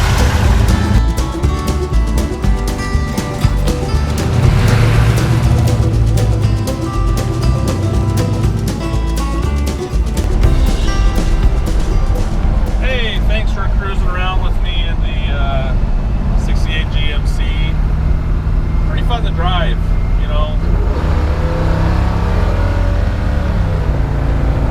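The 396 big block V8 of a 1968 GMC 2500 farm truck drones loudly and steadily on the move, with wind rumble mixed in and someone talking over it.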